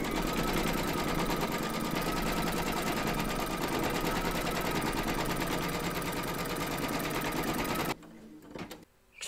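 An embroidery machine stitches down batting held in the hoop, a loud, steady, rapid needle chatter running continuously for about eight seconds before stopping, followed by a few faint handling knocks.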